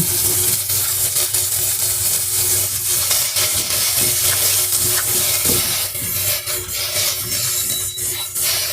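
Chopped onion sautés loudly in a hot pot for ginataang tuna, a close, constant sizzle with spatula scraping and stirring throughout, and no voices.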